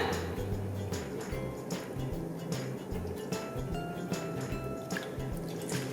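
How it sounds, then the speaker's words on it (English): Milk poured from a measuring cup for frozen s'mores: a faint trickle with scattered drips and small splashes that sound close by. "we are going to be putting in 2 half cups of milk"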